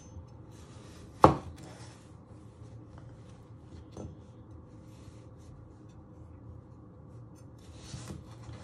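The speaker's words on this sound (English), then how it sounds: "So what we're doing is cutting them in half." Potatoes cut in half with a knife on a board for winter vegetable soup, one sharp chop followed by a few faint taps over quiet room tone.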